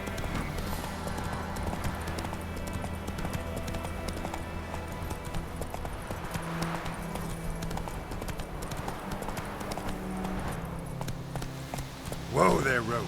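Horse Roach from The Witcher video game clip-clops at a steady walking rhythm under game music and voices, hoofbeats moderately loud and continuous, with a louder burst near the end.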